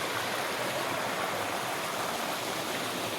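A small mountain stream flows in a steady, close, broadband rush of water with no pauses or other sounds.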